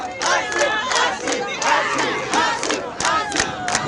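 A large crowd roars and cheers for the head of state during a walkabout in a packed street, with loud repeated surges of shouting voices close around.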